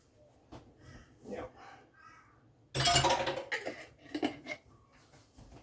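A spoon stirs tomato paste in a cooking pot, with scattered soft scrapes and clinks, then a louder burst of scraping and knocking against the pot that fades to lighter taps, near and alone.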